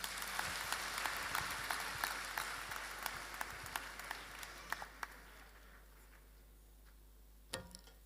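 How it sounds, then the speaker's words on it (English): Audience clapping at a youth empowerment summit, a dense burst of hand claps that gradually thins and fades, ending in a few scattered late claps. "Please keep clapping."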